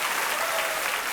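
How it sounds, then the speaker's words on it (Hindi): A brief burst of steady applause from the studio audience on the Kaun Banega Crorepati game show, loud and continuous with no talk. "ताली बज जाए इनके लिए एक बार"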